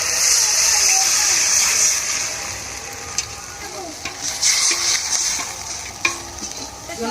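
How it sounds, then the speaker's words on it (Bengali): Water poured into a hot pan with turmeric and salt for Bengali fish curry (macher jhol) sets off a loud hissing sizzle up close, easing into softer bubbling with a few utensil clinks and stirring. "পরিমাণ মতন জল দিয়ে দেবো"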